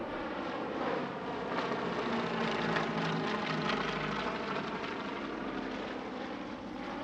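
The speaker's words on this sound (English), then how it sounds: "the show also included a solo display by Charlie Brown in BF-109E Red 12" A Messerschmitt Bf 109E WWII German fighter flies a solo display at an air show, its piston engine a steady, fairly distant roar that swells slightly and then eases, with no talking.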